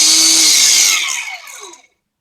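Makita DGA452Z battery angle grinder running loud and high-pitched right next to a toolbox, then winding down as the power cuts, its whine falling steadily over about a second into silence.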